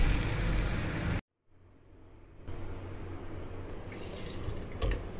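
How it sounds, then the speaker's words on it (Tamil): Water poured into a filter to strain a blended masala paste for butter chicken, a steady liquid pour and trickle with a brief gap before it resumes, close and fairly loud with no talk. "பேஸ்ட்டை நம்ம 1 ஃபில்டரில் போட்டு கொஞ்சம் வாட்டர் விட்டு அந்த மிக்சி கழுவின தண்ணியெல்லாம் விட்டு நம்ம நல்லா ஃபில்டர் பண்ணி எடுத்துக்கணும்"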